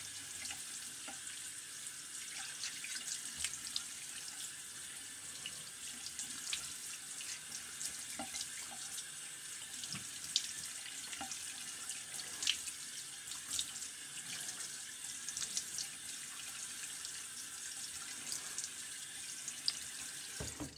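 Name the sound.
tap water running to rinse a razor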